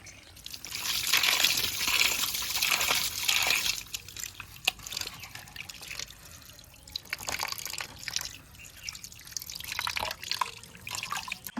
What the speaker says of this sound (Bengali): এবার মাংসটা ধুয়ে নেব।